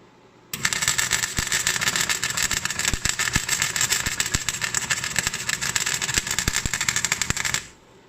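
A Lotos MIG 140 welder laying a test bead with a faulty, rough sound: a loud, continuous buzzing crackle with irregular pops that lasts about seven seconds before it cuts out.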